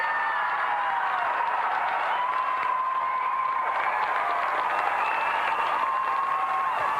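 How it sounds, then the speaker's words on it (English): Studio audience applause on a TV games show: sustained, even clapping from a crowd, loud and continuous with no break. "Let's have another round of applause for tonight's semi-finalists, Paul Lakin and Duncan MacDonald."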